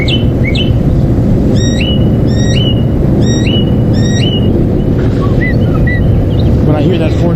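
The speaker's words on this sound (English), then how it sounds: "it sounds like a mockingbird to me" Mockingbird in a tree giving a repeated four-note whistle call, bright clear phrases sounding again and again over a loud low rumble of background noise.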